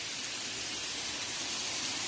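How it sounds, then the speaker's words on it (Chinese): Heavy sudden rain pours down on a street in Danyang, heard as a steady, dense broadband hiss throughout with no talk. "非常明显的下雨啊"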